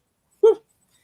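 A puppy lets out a single short, high yelp or whimper, close and clear, in otherwise near silence.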